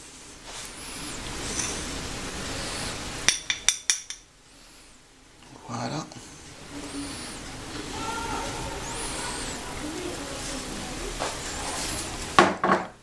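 A spoon stirs spices, including a tablespoon of cumin, into a pot of tomato sauce for Tunisian bsal ou loubia. Quick metallic clinks against the pot, then soft scraping over steady kitchen noise.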